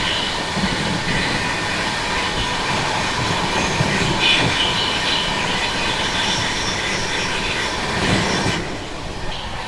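The Nandan Kanan Express rolls past on rails, a loud sustained rumble with clattering wheels and high metallic squeals, staying steady for nearly ten seconds before easing slightly at the end.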